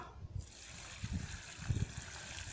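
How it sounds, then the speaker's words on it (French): About fifteen litres of water poured into a container for a vegetable-growth mixture: a low, continuous gushing and trickling with soft surges, fairly quiet, with no talk. "Je vais y ajouter au moins 15 litres d'eau là"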